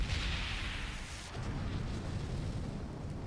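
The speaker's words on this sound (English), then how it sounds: "those are explosions. Those are things that explode." Explosions in the video game Valiant Hearts: The Great War roll out as a continuous, heavy, booming rumble, loud and dense throughout and easing slightly partway through.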